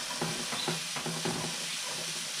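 Onions brown in a frying pan, giving a steady, close sizzle with a few quick stirring scrapes layered over the constant hiss.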